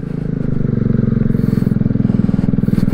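Amstar Nostalgia 50cc moped engine while riding in first gear, a loud, close, rapidly pulsing putter with a steady throbbing rhythm.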